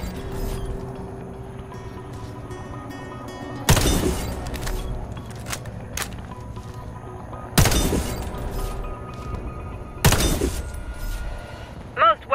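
Warface training range on PS4: three loud, abrupt gunshot bursts at the targets over a steady game background hum, with a short clattering sound at the very end.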